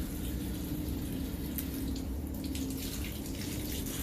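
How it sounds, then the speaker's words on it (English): Running tap water rinses vinegar off a metal etching plate in a printmaking studio, a steady moderate splash and gush with a few drips and small clatters and no talking. "wipe and rinse all of the vinegar off"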